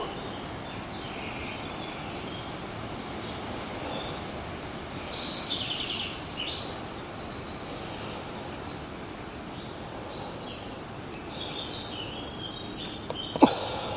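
Birds chirp and call steadily outdoors over a constant hiss of ambient noise, with no voices.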